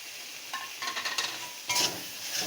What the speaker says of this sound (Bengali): থোড়টা সুন্দর করে ভাজতে হবে